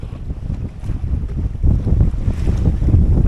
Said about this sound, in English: We're coming in under reduced sail because it's still very windy.